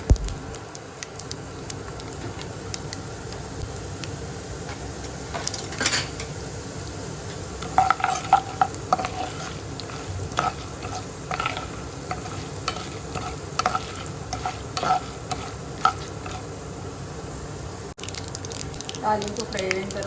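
Chana dal, mustard seeds and cumin sizzle in hot oil in a pan for a tempering, a steady crackling fry with scattered pops and occasional stirring clinks, moderately close and continuous throughout.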